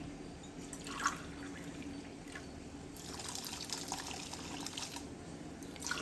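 Water being poured into a pressure cooker holding semolina and chana dal, a soft continuous trickling and splashing at close range, quiet and steady, no voices.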